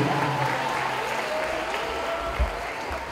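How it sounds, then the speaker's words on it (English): Crowd at an outdoor celebrity event applauding for a couple's anniversary, continuous steady clapping at moderate volume with faint background murmur. "So let's give a round of applause."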